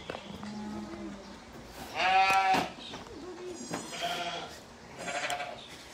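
A sheep named Spike bleats at a sheep shearing event, one loud close bleat followed by two softer calls, with low background murmur between.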